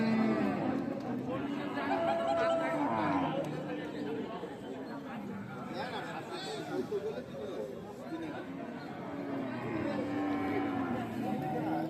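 Cattle lowing at a busy market where cows and calves are sold, with short moos rising from constant crowd chatter and nearby talking.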